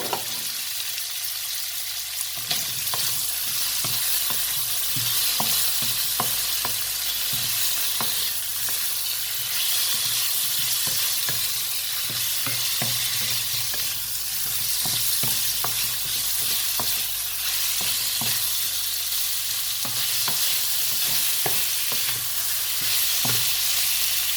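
Tofu sizzles and crackles steadily in a hot wok, with repeated scraping and stirring taps throughout, close up and without any talking.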